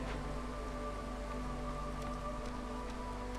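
Steady, even rain patters across surfaces during the drizzle season of the Against the Storm city-building game. It is a soft, constant hiss with faint drops, together with a low background hum.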